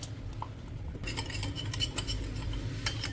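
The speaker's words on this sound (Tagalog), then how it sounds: "Mix lang natin ng toyo, oyster sauce, brown sugar," Soy sauce, oyster sauce and brown sugar being mixed for a stir-fry sauce: quick light clinks and scraping of a utensil against a bowl, close and continuous, over a faint background hum.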